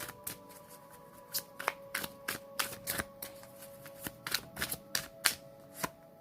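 Tarot cards riffled and shuffled by hand, a quick run of soft papery flicks and snaps in an irregular rhythm, close and fairly quiet, with no voices.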